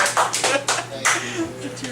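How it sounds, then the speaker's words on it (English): A few loud, scattered hand claps from an audience at a rap performance, irregular and close, with voices murmuring between them. "Round of applause, ladies and gentlemen."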